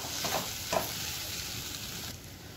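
Walnut halwa with khoa sizzles steadily in a pan as it is stirred, two brief scraping strokes rising over an even frying hiss.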